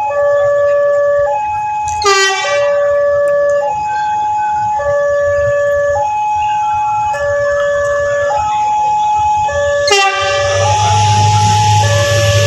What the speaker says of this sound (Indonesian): kereta api Jenggala sudah melintas